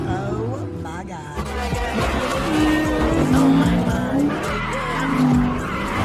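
Car tires squeal and skid loudly as a guest's car is driven hard on an unauthorized test drive by a valet, a sustained screech with engine noise running for about six seconds.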